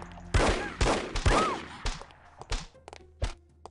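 Gunfire from the video game The Operative: No One Lives Forever, a series of sharp, loud shots and bursts at irregular intervals, some clustered closely, with brief quiet gaps and faint game ambience between.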